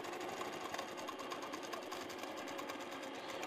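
Sewing machine stitching during free-motion quilting: a rapid, even, continuous mechanical whir with a fine regular pulse, close but quiet.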